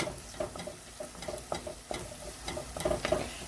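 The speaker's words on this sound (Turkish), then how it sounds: "Naneyi önce şöyle bir kavuralım." Dried mint and tomato paste sizzle and fry in a pot while a spoon stirs, giving crackling bursts and scraping strokes in an uneven rhythm, close and fairly loud with no talking.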